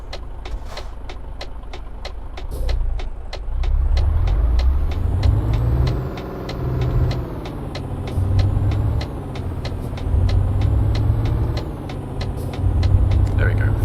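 Heavy truck engine in Euro Truck Simulator pulling out into traffic, a steady low rumble that rises in revs as it moves off, with clicking indicator ticks and someone talking over it.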